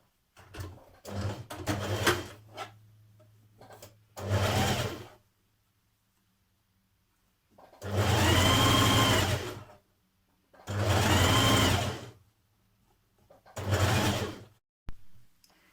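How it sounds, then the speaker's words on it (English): Sewing machine stitching skirt pocket pieces together in several separate bursts of a few seconds each, near and clear, with silent gaps between runs. "Then I'm going to stitch my pocket pieces together."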